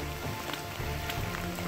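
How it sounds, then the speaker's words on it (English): Light rain patters steadily on a mountain trail in Rocky Mountain National Park just after a hailstorm, a soft continuous hiss of drops close by with no talking. "the rain has subsided quite a bit"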